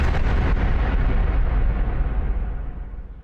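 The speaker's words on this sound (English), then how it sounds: "Artillery?" Artillery explosion in a Warhammer Space Marine animation: a loud, deep blast roar that rumbles on and slowly fades over a few seconds, with no voices.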